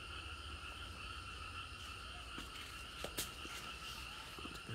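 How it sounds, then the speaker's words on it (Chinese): Frogs croak in the early morning at a Luye Gaotai campground in Taitung, a steady dense chorus mixed with insect-like trilling, fairly loud and continuous with a few brief sharper calls. "一大早的青蛙声音"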